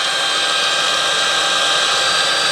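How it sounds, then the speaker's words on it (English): Household vacuum sucking dust off an AC evaporator coil, a loud steady high-pitched motor whoosh that holds unchanged throughout, close and with no talk. "Now you can just use your regular vacuum."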